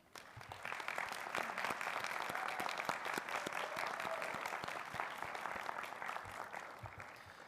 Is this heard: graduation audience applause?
yes